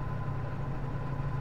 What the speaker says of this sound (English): There's a little bit of exhaust rumble because